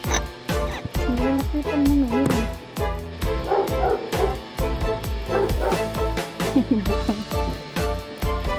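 A dog barks repeatedly in quick yipping bursts, with some whimpering between them, close and fairly loud, as a voice talks over it.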